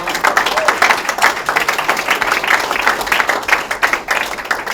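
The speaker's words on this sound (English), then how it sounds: "Let's give them a round of applause and thank them very much for what they've done" Stadium crowd at Citi Field applauding the Mets organization, sustained rippling claps with cheering swells, fairly loud and continuous throughout.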